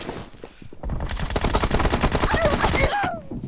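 Groza and M4 rifles fire in a team deathmatch video game, rapid automatic bursts of loud, close shots hammering continuously for a couple of seconds, with a voice cutting in near the end.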